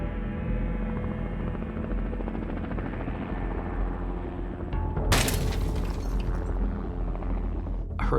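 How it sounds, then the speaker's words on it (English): A helicopter flies overhead near a volcano, its rotor drone loud and steady throughout, with a sudden sharp burst of broadband noise partway through. "I heard a helicopter."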